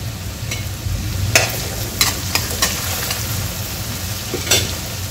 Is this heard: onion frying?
yes